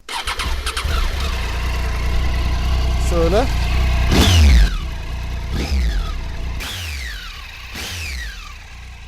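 A Triumph Tiger 800 motorcycle engine is blipped through several sharp throttle revs, each rising and falling in pitch over a steady idle, close and loud, with a brief spoken word at the start.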